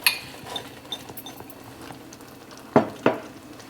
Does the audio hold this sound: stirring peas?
yes